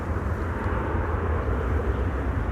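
A KLM Embraer 175 airliner at Amsterdam Schiphol gives a steady, moderate low engine rumble that holds evenly throughout, with no talk.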